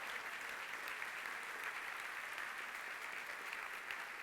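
A church congregation claps faintly and steadily together at a distance, producing a soft, continuous patter with no voices over it.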